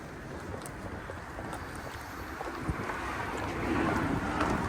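Steady wind rushes and buffets the microphone outdoors in New York in November, growing a little louder toward the end, with no voices.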